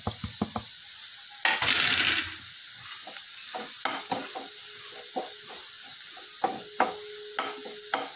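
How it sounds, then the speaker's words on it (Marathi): Spices dropped into hot tempering oil for a Maharashtrian matki bhaji: a loud burst of sizzling, then quieter crackle with sharp clinks and scrapes of a spoon stirring in the pan. "आता आपण यामध्ये मसाले घालूयात"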